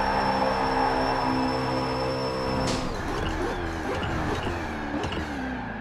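A Koenigsegg Agera RS in Forza Horizon 4 brakes hard from top speed, its loud engine tone dropping abruptly into a rough, wavering rumble with tire noise that continues steadily to the end.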